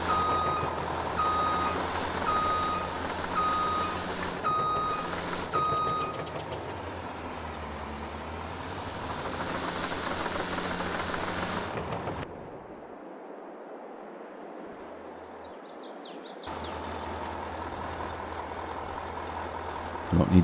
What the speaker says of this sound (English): Sounds like a real truck.